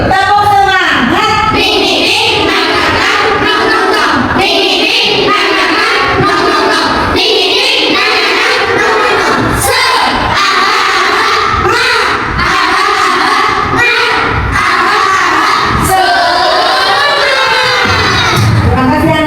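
Schoolchildren in a classroom perform a spirit clapping cheer, loud and close, with rhythmic claps under continuous shouting and chanting voices from the whole group.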